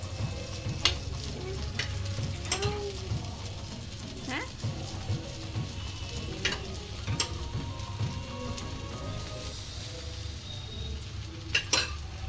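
Flatbread cooks with oil on a tawa griddle, a soft steady sizzle with scattered taps and scrapes, heard close.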